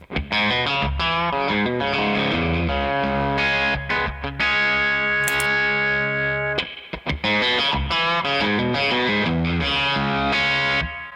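Electric guitar played through a dirty Throbak overdrive boost pedal, a continuous gritty distorted tone with strummed chords and sustained notes, loud and close, with brief pauses around the middle.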